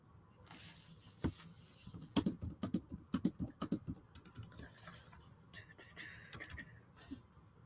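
Quiet bursts of typing on a computer keyboard, irregular clusters of clicking keys close to the mic with brief pauses between runs, in a calm indoor room with no talking.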